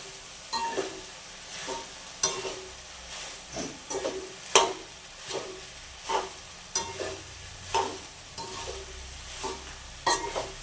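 Ingredients for soya chunk rice stirred and mixed in a sizzling pan, a regular series of scraping spatula strokes about once a second over a quiet steady fry, close and without voices.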